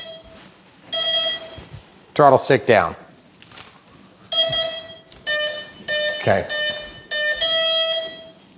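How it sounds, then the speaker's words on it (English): A sequence of high electronic beeps from a radio-controlled plane's speed controller sounds in short tonal bursts, some repeated in a steady rhythm, while someone speaks briefly between them. "plug in, listen to the beeps."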